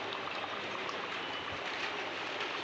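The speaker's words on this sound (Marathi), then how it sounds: "हत्ती आणि जे पाणी येतं बाहेर ते पाहू शकतात तुम्ही" Water flows steadily from an elephant fountain set in a folding eco-friendly cardboard and paper festival decoration, a soft continuous trickling rush heard up close with no one talking.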